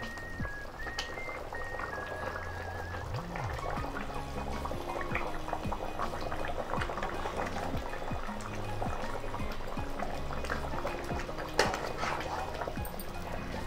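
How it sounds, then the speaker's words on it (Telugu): Chicken curry simmering in a pot, a steady dense bubbling and popping that runs the whole time at moderate level, with faint kitchen background. "కూర మంచి ఉడుకుతా ఉంది"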